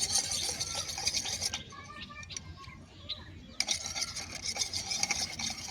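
Fevikwik glue mixture being stirred, close scraping and rasping strokes in steady bursts with a quieter pause in the middle, faint and alone.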